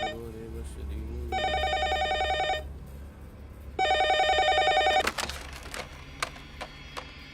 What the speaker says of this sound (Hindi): मेरा फोन क्यों नहीं उठा रहे थे?